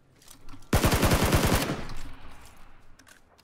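Rapid automatic gunfire in the video game PUBG, a burst of about a dozen loud, evenly spaced shots lasting under a second, followed by a fading tail and quiet game ambience.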